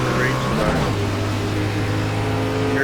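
Onboard race car engine at Darlington on a restart, a steady loud drone that climbs in pitch as the car accelerates, continuous throughout.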